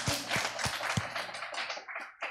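A church congregation claps during a Sunday service to honor a deaconess for her flower arrangement. A few sharp, loud claps open into dense, steady applause that thins and fades toward the end.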